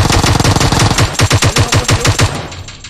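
Rapid automatic gunfire in PUBG Mobile, a loud close burst of evenly spaced shots in quick rhythm lasting over two seconds before trailing off, with no talk.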